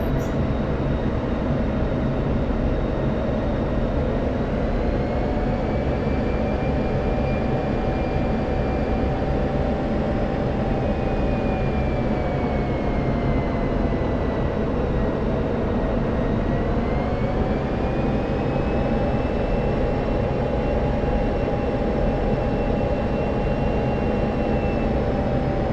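Steady, loud jet engine roar from an F-16 on landing approach in a flight simulator game, with a constant drone and slowly shifting whine throughout and no talk.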